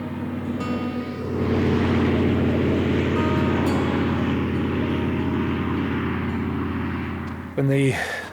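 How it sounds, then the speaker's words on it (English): A car passes on a quiet outback road between Port Augusta and Alice Springs, a broad steady rumble swelling and holding before fading, with a brief clatter near the end. "When the sound of a passing car dies down, it is absolutely dead quiet"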